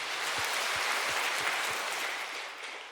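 A church congregation applauds to glorify God at a Sunday worship service, a dense, steady wash of clapping that holds loud throughout and tapers slightly at the end.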